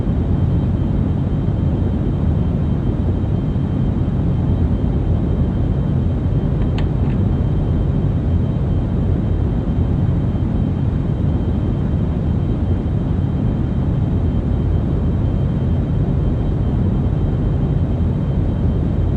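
Spacecraft engines roar at full throttle in the game Orbiter 2016, a loud, steady low rumbling thrust that continues unbroken, with one brief faint click partway through.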